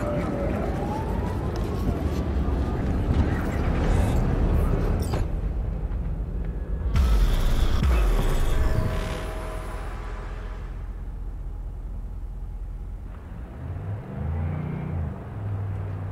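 Car driving in Cyberpunk 2077 with engine rumble and whooshing road noise throughout, swelling louder midway, with sirens faintly behind and voices talking over it.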